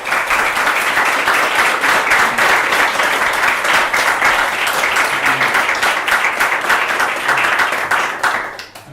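Loud, close applause from a conference audience fills the room after a Salesforce talk ends, sustained dense clapping that runs evenly before tapering off at the very end.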